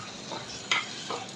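Beef brain frying with chopped onion gets a short stir in the pan: a soft, continuous sizzle broken by a sharp scrape of the spoon and a second lighter scrape, close and fairly quiet.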